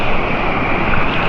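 Ocean waves wash and hiss steadily and loudly on a half-day fishing trip, mixed with wind buffeting the microphone.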